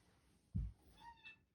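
A cat lets out a short, faint meow close by, with a couple of soft, brief mews right after in an otherwise quiet room.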